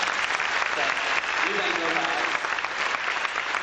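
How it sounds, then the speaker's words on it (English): Audience applause at a 1990 East Central High School band Christmas concert, a dense steady wash of clapping filling the room throughout, with a voice speaking briefly over it. "So please give them a round of applause, too."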